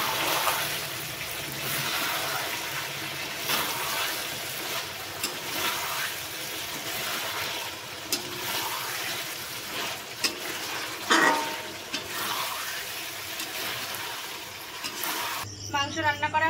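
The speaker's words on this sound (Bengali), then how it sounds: "আর কড়াই তো গরম হয়ে গেছে, চলো এখন আলুগুলো ভেজে নিই" Potatoes fry in a hot wok (kadai) with a steady sizzle and the stir and scrape of a spatula running throughout, and a few louder clatters of the pan near the end.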